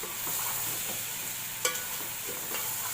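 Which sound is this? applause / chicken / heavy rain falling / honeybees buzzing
chicken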